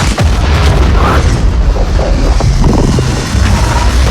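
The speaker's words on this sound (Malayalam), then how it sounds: "പാട്ടിൽ നിന്ന് സ്പാർക്കായി പിന്നൊരു വൻ സ്ഫോടനമാണ്" A huge explosion from the Stranger Things series finale, a loud continuous booming roar that fills the whole stretch with rumbling and bursts.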